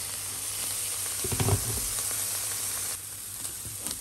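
Onion and garlic sizzle steadily in a hot pan alongside pork, with a few louder crackling bursts and stirring scrapes over a constant close frying hiss.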